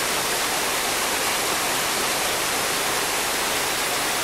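Todtnauer Wasserfall in Germany roars as a steady, dense wash of falling water, loud and unbroken throughout with no other sounds above it.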